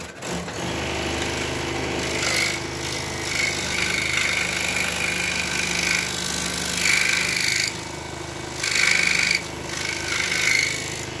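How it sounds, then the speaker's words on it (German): An electric scroll saw cuts an angled wooden piece, making a loud, continuous buzzing rasp that swells and eases as the blade works through the wood, with brief quieter pauses between passes. "Säge einschalten."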